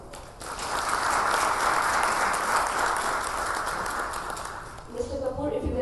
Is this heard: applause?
yes